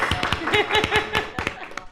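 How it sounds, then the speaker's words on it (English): Panel event audience gives a short burst of clapping, distinct claps close and fairly loud for about two seconds before tapering off. "Give her a round of applause"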